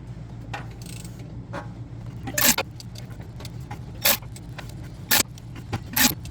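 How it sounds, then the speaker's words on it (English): A ratchet snugs bolts on a 2005 Toyota Tundra transmission harness, sharp bursts of clicking at intervals over a low background hum, close and fairly loud against an otherwise quiet garage. "run them in with the ratchet and make them snug"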